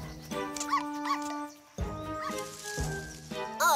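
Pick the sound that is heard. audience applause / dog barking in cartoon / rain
dog barking in cartoon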